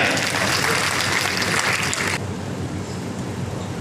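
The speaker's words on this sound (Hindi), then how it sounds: "जोरदार तालियां" Loud, dense applause from a crowd at a teacher honouring ceremony in Ujjain, held steady for about two seconds before easing to a softer, continuing patter.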